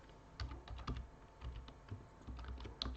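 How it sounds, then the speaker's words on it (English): Quiet, steady typing on a computer keyboard while creating and saving a Python file, with irregular clusters of soft keystrokes across a few seconds and no talking. "Here we type this, we save it"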